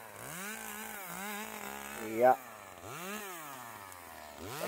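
A lightweight Echo CS2511 chainsaw, its engine broken in over several sawing days, revs up and down in repeated rising and falling whines, loud and close, with one sharp peak midway.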